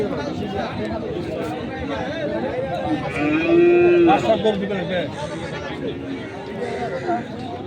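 Crossbred bulls at a cattle market low and moo amid a busy crowd, with one prominent close moo standing out over constant chatter and bargaining voices.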